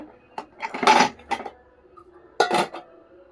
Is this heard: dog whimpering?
no